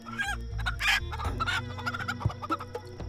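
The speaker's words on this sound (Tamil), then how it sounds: "கோழி கதற சத்தம்" A chicken squawks and clucks frantically while being slaughtered, with loud, close, repeated cries rising and falling over a low, steady drone.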